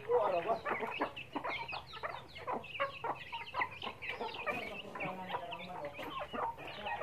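Several chickens cluck in busy, overlapping bursts, fairly close and moderately quiet, with a faint low hum underneath and no talking.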